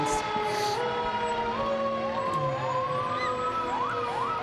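A red and white fire engine decorated for a Christmas parade sounds its siren, which wails and sweeps in rising and falling tones. The siren stays steady and moderately close over crowd noise from the street.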